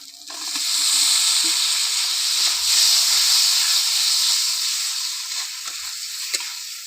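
Chopped tomato sizzles loudly in hot oil with turmeric powder in a pan for a Bengali katla fish and potato curry, a steady bright hiss lasting throughout with faint stirring knocks underneath.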